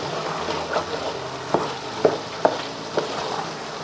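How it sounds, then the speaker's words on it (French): Melted tomatoes being stirred and crushed in a pan for lasagne, a steady low sizzle broken by several sharp spoon knocks against the pan, close and without talk. "Maintenant, on va mélanger."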